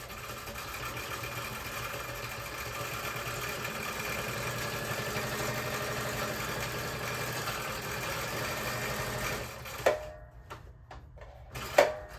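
A sewing machine stitches a little cover fabric at a steady, fast mechanical whir with a constant drone for about ten seconds. It then stops, leaving a few short clicks and clunks.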